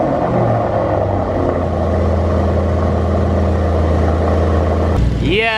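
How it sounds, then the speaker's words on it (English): Car engine idling after a cold start with a bad exhaust leak, a steady loud rumbling drone that cuts off near the end as a voice begins speaking. "you can still hear a pretty bad exhaust leak there"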